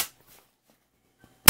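A Mosin Nagant Type 53 rifle fitted with an Archangel OPFOR stock fires a single sharp, loud shot that cracks out at the very end after near silence.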